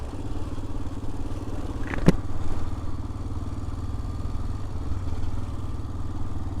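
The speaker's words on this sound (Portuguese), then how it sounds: "Testando a moto do Le Capel aqui." A Yamaha Ténéré 600 motorcycle runs on a test ride, a loud steady engine drone with a single sharp thump near the middle.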